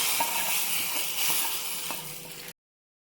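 Hot fried garlic and dried red chilli tempering is poured into masoor dal, a bright continuous sizzle with light stirring clicks that cuts off abruptly near the end, no voices over it.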